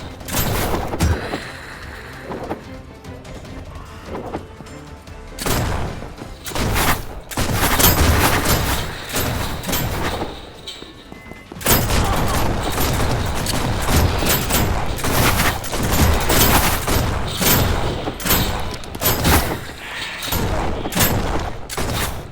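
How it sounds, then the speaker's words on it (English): Dense, sustained video-game gunfire in Kinki Spiritual Affairs Bureau: rapid overlapping shots and bursts with heavy booming, nearly continuous and loud, with a short lull in the middle. "Who is shooting at me?"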